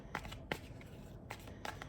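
Tarot card deck being shuffled, four quick riffling bursts with short gaps between them, soft and close, with no talking.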